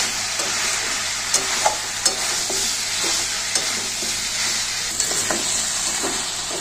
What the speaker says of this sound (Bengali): এবার মশলাগুলো দিয়ে ভালো করে কষাতে থাকবো